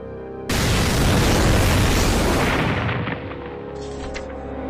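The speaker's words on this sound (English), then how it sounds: "It was that metal tank exploding, being torn apart by the weight of more than 2 million gallons of molasses." Simulated bursting of a huge metal tank holding over 2 million gallons of molasses: a sudden loud roaring blast that rumbles heavily for a few seconds, then fades into a lingering low rumble with faint debris sounds.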